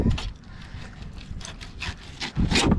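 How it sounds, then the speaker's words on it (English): A knife scrapes along the bone of a redfish during filleting, making soft, close rasping strokes in short repeated passes. "scrape along the bone"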